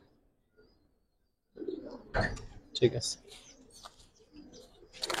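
Giribaz pigeons in a loft give low, soft coos mixed in with someone talking nearby; the birds stay mostly under the voice.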